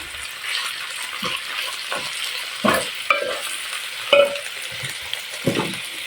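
Tripe stirred in a pot for goto, a steady frying sizzle with scraping spoon strokes and a few louder knocks at intervals, close and continuous, with no voices.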